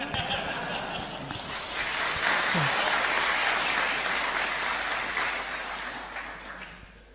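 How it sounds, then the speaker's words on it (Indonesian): Audience applause at an Islamic lecture, a dense steady wash of clapping lasting several seconds at moderate loudness, fading slightly toward the end, with faint murmuring voices underneath. "Kenapa jadi tepuk tangan begitu?"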